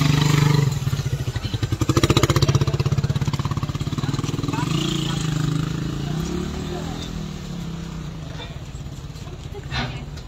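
Motorcycles board a navy warship for a free holiday-homecoming trip, with a loud, close engine drone and rattling clatter that rises, then eases into a lower idle, while people talk over it.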